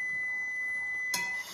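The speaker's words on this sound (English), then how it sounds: "That was a beep that you just heard." An oven preheated to 375 for stuffed bell peppers gives a single steady electronic tone that holds clearly for about a second and a half and ends with a short click.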